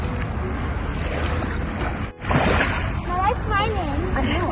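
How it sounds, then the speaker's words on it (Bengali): Sea waves wash onto a beach in a steady broadband rush of surf, with people's voices talking and calling over it toward the end. "সমুদ্রের আওয়াজটা কি ভালো লাগছে"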